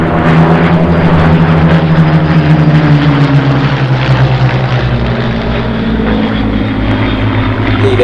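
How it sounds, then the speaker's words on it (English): Spitfire MH434, the famous lead aircraft of a Spitfire formation, flies over an airshow at Sywell with a loud, steady propeller-engine drone that holds throughout and shifts slowly in pitch as it passes. "Lead aircraft is MH434, very famous, or one of the most famous Spitfire, I would suggest."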